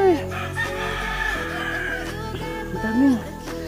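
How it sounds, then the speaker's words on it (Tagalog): Fighting roosters crow in a rural village setting in Palau, several drawn-out cock-a-doodle calls at the start and near the end over a background murmur of ambient voices. "Ang daming manok panabong dito."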